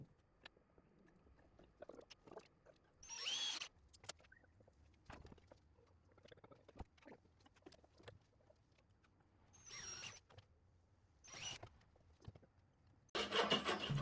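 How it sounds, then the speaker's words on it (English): Drill boring holes through wood guided by a homemade dowel jig, heard as several separate bursts of high-pitched whirring, each a second or less, with quiet handling noises between and a longer loud burst at the end. "set it on my layout lines, and drill some holes."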